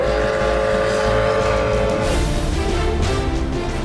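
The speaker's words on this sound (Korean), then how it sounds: "칙칙폭폭 기차가 달립니다." A steam train runs close and loud beside Lake Baikal in Siberian snow, a steady roar and rumble with a sustained whistle tone fading partway through; no voices.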